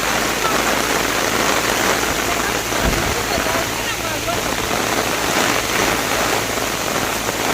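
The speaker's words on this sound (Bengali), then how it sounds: "প্রচন্ড বৃষ্টি হচ্ছে, অনেক ভিজে আছি" Heavy rain pours down steadily over a canal and pond during a fish-catching outing in the countryside, a loud, continuous hiss of water that fills the whole scene from start to finish.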